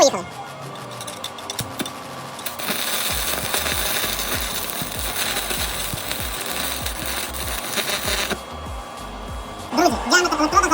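A START-PRO SPI 250 inverter welder set to 200 amps arc-welds rebar with a 3 mm electrode, a loud, close, continuous crackling sizzle with irregular pops that cuts off near the end.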